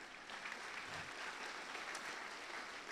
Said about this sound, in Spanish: Les damos un aplauso a estos jóvenes que están.